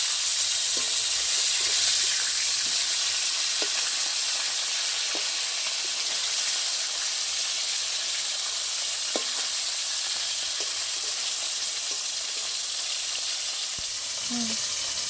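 Pieces of rohu fish fry in oil in a pan with a continuous steady sizzle and hiss, with faint knocks and scrapes now and then, close by and without talk.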